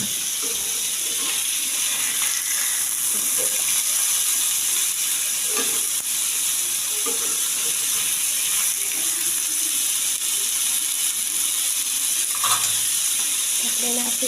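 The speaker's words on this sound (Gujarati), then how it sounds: "બધું પનીર આમાં નાખી દઈશું ફ્રાય કરવા માટે" Paneer frying in oil in a pan on a gas stove, a continuous sizzle with occasional soft scrapes and clicks of stirring, steady and fairly loud throughout with no talk.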